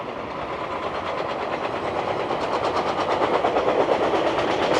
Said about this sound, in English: And you see another train going in the other direction.